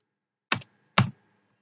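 Two separate key presses on a computer keyboard while HTML code is edited, sharp close clicks about half a second apart with silence around them.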